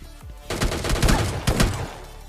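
MK14 rifle fire in a battle royale video game, a dense burst of rapid shots that fills about a second and a half and then breaks off, loud and close, with no talking.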